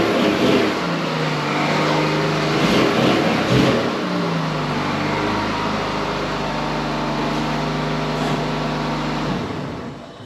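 A car engine revs and drones steadily nearby, rising in pitch as it accelerates, then eases off and fades at the end.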